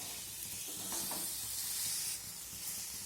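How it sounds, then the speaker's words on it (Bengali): Ivy gourd (kundru) fries in a pan over a raised gas flame, a soft, even sizzle and hiss broken by brief scraping stirs, close but faint, with no talking. "এখন গ্যাসের ফ্লেমটাকে একটু বাড়িয়ে এটাকে আর একটু ভাজা ভাজা করে নিতে হবে।"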